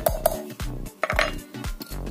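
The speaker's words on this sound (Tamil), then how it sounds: "இப்ப வந்து உப்பு சேர்த்து ஒரு கலக்கி கலக்கி வச்சிருவோம்" Salt being stirred into a mixture in a metal vessel, heard as a few close, ringing clinks and scrapes of a spoon against the pot in quick succession.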